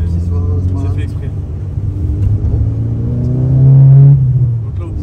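A Volkswagen Golf 6 GTI with a Stage 2 tune revs up close by, a deep engine drone climbing to a loud peak near the end, with people talking over it.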